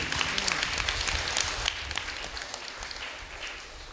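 A congregation claps during a Tamil sermon: crackly, uneven clapping from many hands, busiest at the start and gradually thinning and fading over four seconds.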